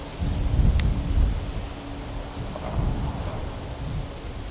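A thunderstorm rumbles with low, rolling thunder under a steady wash of rain and light wind, moderately loud and without talking.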